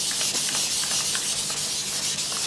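Colored pencil rubbed into paper on a colouring page, a continuous close, loud scratchy hiss with faint strokes repeating through it and no talking.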